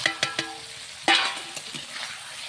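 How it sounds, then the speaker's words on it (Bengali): Fish hits hot spiced oil in a pan with a sudden loud sizzle that settles into steady frying, after a few quick clinks of a utensil against the pan. "এখন আমি মাছগুলো ঢেলে দেবো।"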